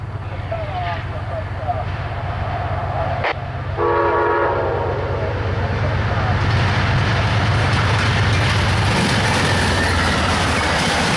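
An Amtrak train passes close by, with a loud rumbling roll of rail cars and a short horn blast partway through. Voices of people nearby can be heard under the noise.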